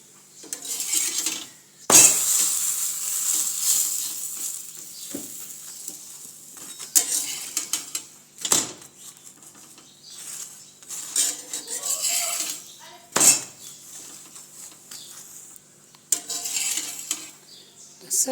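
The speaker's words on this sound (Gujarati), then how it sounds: "તો માખણ લગાવી અને સરસ રીતે આ પરોઠા આપણે તળી લેવાના છે." Aloo paratha cooking in butter on a pan, heard as a quiet sizzle broken by sharp metallic clinks and scrapes of a utensil against the pan at irregular moments, with no voices.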